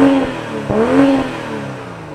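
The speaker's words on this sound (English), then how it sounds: "So that means we gotta listen to the exhaust sound." A 2021 BMW M440i exhaust revs twice in quick, sharp bursts, rising and falling, then settles into a steady idle, loud and close with no talk.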